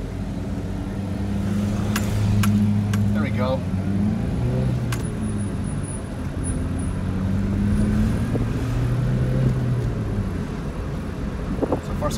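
A Chevrolet S10 pickup with a manual stick shift pulls away, its engine droning and rising in pitch through the gear. It is heard from inside the cab, with faint rustling and a few soft voices.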